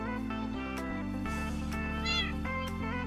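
Cats in the video game Minecraft meow repeatedly, short rising calls layered over steady background game music, fairly soft and close with no talking.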